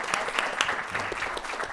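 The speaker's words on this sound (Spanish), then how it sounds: "Un aplauso para los invitados" A conference audience claps for the guests of a tech summit panel, a short burst of dense, moderately loud applause with distinct individual claps, with no talking.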